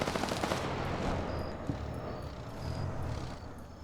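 Sustained bursts of light machine gun fire in a PvP shooter video game, loud and continuous with overlapping rapid shots and a few sharper cracks throughout.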